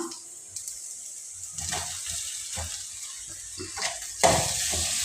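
Mashed boiled potatoes, about a quarter kilo, being stirred into a frying spice mix in a pan: a continuous sizzle with scraping stirring strokes that swell now and then, no voices.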